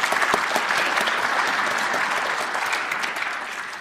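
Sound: audience applause at a gathering

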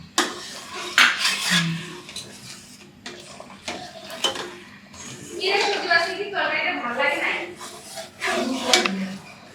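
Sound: washing dishes and utensils

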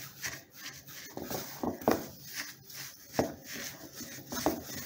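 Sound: mixing coconut powder with hazelnut flavouring

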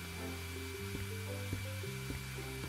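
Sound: vacuum cleaner sucking up broken glass in House Flipper 2 video game

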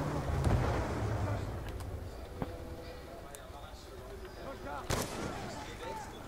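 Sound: gunfire in a video game

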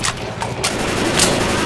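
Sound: gunfire from a shotgun in the video game Left 4 Dead 2

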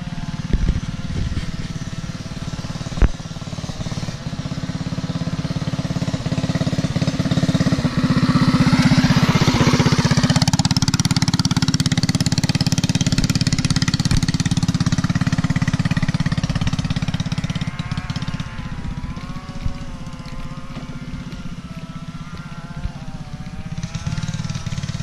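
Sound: motorcycle riding around dirt track bend

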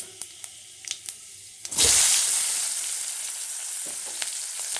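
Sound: tempering spices and onion frying in oil

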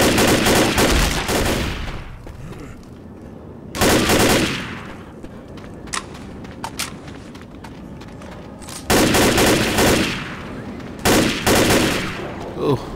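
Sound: gunfire in Left 4 Dead video game

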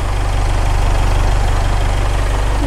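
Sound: car engine idling

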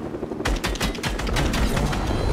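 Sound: gunfire in Fortnite (video game)

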